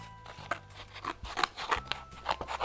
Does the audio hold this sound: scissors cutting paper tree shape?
yes